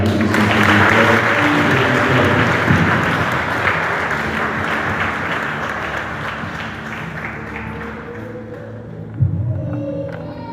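Sustained applause acclaiming the Lord at a church service, a large crowd clapping loudly and steadily before gradually thinning out, with some voices mixed in.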